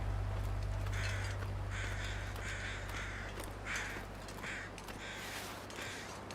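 Crows in The Long Dark video game caw in repeated harsh calls, several in a loose rhythm, heard at moderate distance over a steady low hum.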